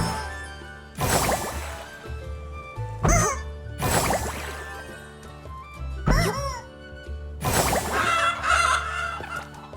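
A chicken in the Infinity Nikki video game clucks and squawks in several loud bursts spaced a second or two apart, with quieter gaps between calls and no talking.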